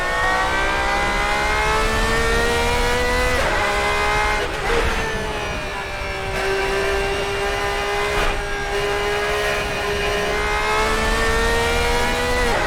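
Classic endurance race car in Assetto Corsa, the engine droning loud and close with a steady high-pitched whine that rises and dips through gear changes and lifts, continuous throughout with no talk.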